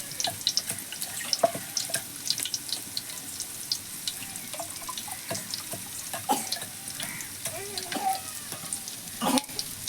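Water pours into rice in a cooking pot for prawn biryani, a continuous splashing gush broken by small knocks and scrapes, with faint talk in the background.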